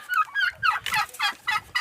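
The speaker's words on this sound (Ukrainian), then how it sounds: "Індики повибігали на двір" Several turkeys gobble in quick, bubbling bursts in a yard, fairly close and clear.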